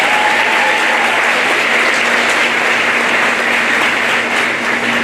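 An audience at a school graduation claps for award winners, a dense, even wash of applause that stays loud and constant for about five seconds without pause.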